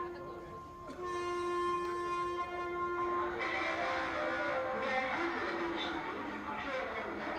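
At a Ganesh pandal in Ankleshwar built as a lifelike railway station replica with platform, train and announcement system, a drawn-out train horn sounds, followed by a rumbling rush of train noise amid crowd murmur.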